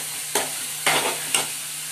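Chicken keema sautés in a hot pan over a high flame, with three bursts of loud, close sizzling as a spatula stirs and turns it.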